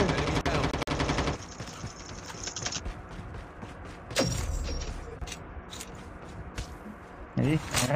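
Gunfire in the video game Call of Duty: Mobile, with sharp rapid bursts and single shots up close, while players talk over the action.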